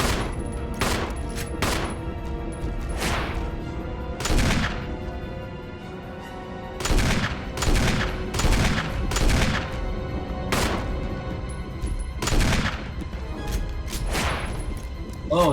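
Rapid bursts of gunfire from the Resident Evil video game, loud clustered volleys and single shots repeating throughout, with booming impacts under game sound.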